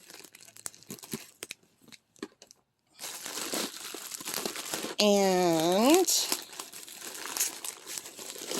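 Crinkly plastic bubble wrap packaging being handled while unboxing diamond painting and embroidery craft supplies, soft rustling and crunching that grows louder midway, with a brief squeaky scrape and someone speaking quietly over it.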